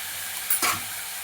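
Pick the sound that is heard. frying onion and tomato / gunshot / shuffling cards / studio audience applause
frying onion and tomato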